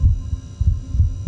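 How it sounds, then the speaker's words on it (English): Heartbeat effect in the video game Inside The Backrooms, low muffled thumps in paired beats repeating steadily, loud and close over a faint hum. "Follow the heartbeat."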